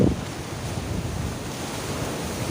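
Sea waves wash in close to a rocky shore with black cement-like stone on a Saudi coast, a steady low roar of surf with some wind noise on the microphone, heard alone without voices.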